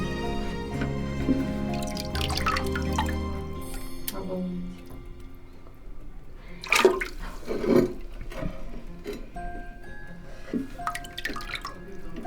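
A toilet cistern with dirt inside flushes, water rushing and gurgling loudly up close before settling into trickling refill and scattered drips, with a voice speaking intermittently over it.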